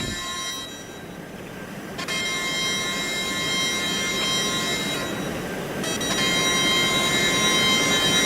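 Eurostar train pulling in within the RO-Scale Sandbox video game: a steady rumbling rolling noise with sustained high tonal whines that shift twice, loud and continuous, with no talking.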